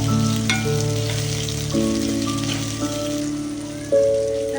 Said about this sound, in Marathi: हे आलं लसूण आणि मिरच्या त्या पण ह्याच्यामध्ये आपण छान असं परतवून घेऊया